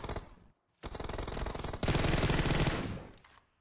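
Automatic weapon fire in PUBG Mobile, a short burst followed by a sustained loud rapid volley lasting a few seconds, close and clear with no talk.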